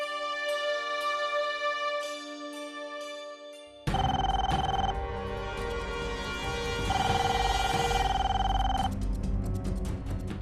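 A phone rings on an outgoing call with a melodic tonal ringtone, quiet and sparse at first, then louder and fuller from about four seconds on, with no one speaking.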